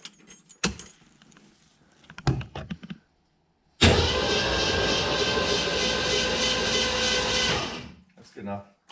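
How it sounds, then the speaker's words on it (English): A 1968 Ford Mustang that sat for 30 years cranks over and catches, its engine roaring loud and steady for about four seconds before cutting off, with brief clatter and handling noises before and after. "Okay. Cranking over."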